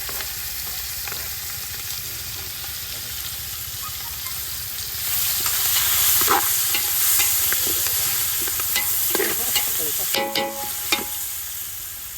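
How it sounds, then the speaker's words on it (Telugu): Onions frying and being stirred in a pot over an outdoor village cooking fire for egg biryani, a steady sizzle with scraping stir strokes that grows louder midway, plus clattering utensil knocks near the end. "ఆనియన్స్ వేసుకుందాం టమాటా తర్వాత"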